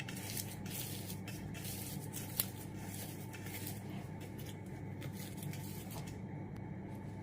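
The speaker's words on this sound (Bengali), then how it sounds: "এটা ভালো করে ম্যাশ করে নিচ্ছি।" A chickpea lentil fritter mixture is mashed by hand with salt, producing soft, faint, continuous squishing and patting close by, with one brief sharper tap partway through.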